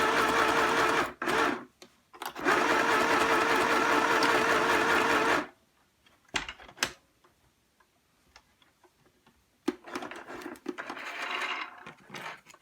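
Sewing machine stitching fabric, loud rapid mechanical whirring in bursts, with one long run, then short pauses with faint clicks and a final softer run.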